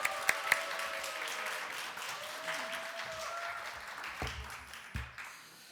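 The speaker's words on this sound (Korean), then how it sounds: "나오실 때 크게 함성과 함께" A church congregation in Seoul applauds and cheers as a pastor comes forward, a broad, steady wash of clapping with a few sharp close claps at the start and some trailing off near the end.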